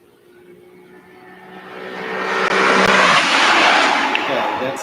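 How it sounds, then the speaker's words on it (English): Car sounds from a car commercial played back on a device: a rising engine roar that swells over a few seconds and holds loud. "it's a car commercial"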